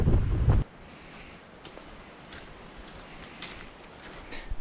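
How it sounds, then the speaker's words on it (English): Wind buffets steadily across open ground by Lake Waikaremoana, New Zealand, with a loud gusty rumble at the start before settling into a softer, continuous rush. "It is wild and windy out there today."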